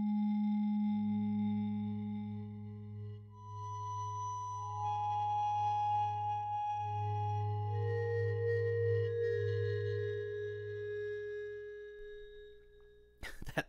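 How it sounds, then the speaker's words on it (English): Bowed marimba articulation from an 8Dio sample library, long sustained singing tones layered and shifting in pitch, a smooth continuous drone at moderate level ending with a brief clatter. "Bowed marimba articulation."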